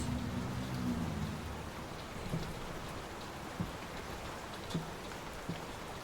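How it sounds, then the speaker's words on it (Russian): Water drips and patters steadily like light rain from seascape paintings in Layers of Fear (2023), with occasional louder single drops landing nearby against a constant wash of dripping. "вот с этих вот морских картин капает вода"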